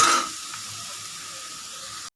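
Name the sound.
onions sautéing in pan for chicken chukka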